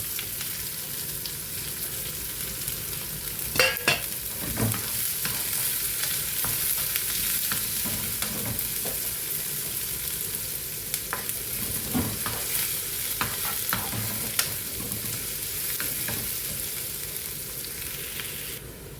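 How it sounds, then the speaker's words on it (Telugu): Sliced onions fry in a pan for Kerala alissery, sizzling steadily while a utensil stirs and scrapes in irregular clinks and scuffs. The cooking sounds are close and continuous, with no talking. "చూడండి, కొంచెం వేగాయి, ఉల్లిపాయలు వేసానండి."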